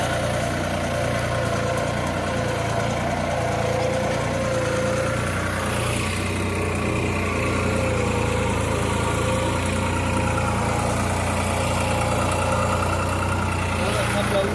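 A New Holland 3600-2 tractor pulling a reversible plough through a field, its engine running steadily at constant load in a continuous low rumble with no breaks, close and fairly loud throughout.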